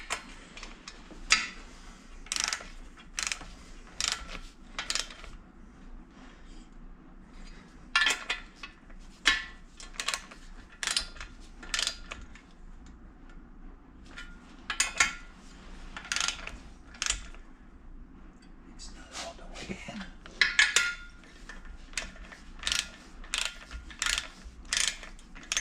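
Ratcheting wrench clicking in repeated bursts as bolts are run down evenly across two-stroke engine cases during assembly, crisp close ratchet ticks with short pauses between strokes.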